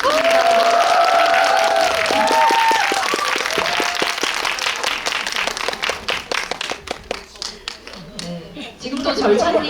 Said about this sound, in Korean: 여러분들 큰 박수 한번 부탁드립니다.